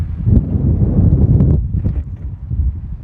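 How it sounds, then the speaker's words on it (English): Gusty wind buffeting a microphone outdoors during a disc golf throw: a loud, continuous low rumble that swells and eases, with faint rustling. "the wind has picked up a bit"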